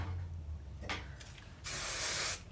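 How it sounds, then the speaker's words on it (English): A can of hairspray lets out a short hiss, then a second, longer, louder burst of about a second, close by, over quiet room noise. "Okay, light hairspray."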